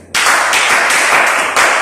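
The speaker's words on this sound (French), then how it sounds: "Jos, applaudissez pour Delphine." A group bursts into loud, steady clapping for Delphine in a French-speaking class about healthy eating, starting abruptly and holding strong for nearly two seconds.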